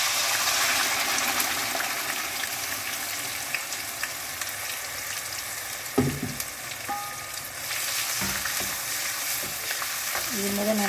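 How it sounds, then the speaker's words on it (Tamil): A ground paste of onion, ginger and garlic sautéing in a pan for a mutton curry, a dense continuous sizzle with occasional spoon knocks and scraping strokes throughout. "இது முதல் நல்லா வதங்கிட்டோம்."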